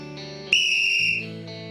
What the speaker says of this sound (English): Eddie, blow us a whistle.